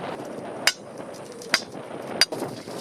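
Hammer blows drive ground anchors into garden soil for poles spaced ten feet apart in a mulched Back to Eden garden. There are three sharp, well-spaced metallic strikes, close and distinct, over quiet outdoor background.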